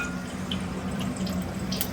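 Tamarind water is poured and filtered, a soft steady trickle with a few light drips, close by and continuous for two seconds.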